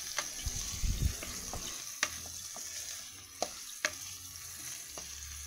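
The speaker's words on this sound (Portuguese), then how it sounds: "Agora eu vou mexer para que ela não queime." Chopped sausages frying and stirred in a pan for a beef stroganoff, a steady soft sizzle with sharp clinks of the utensil against the pan and a few scraping strokes.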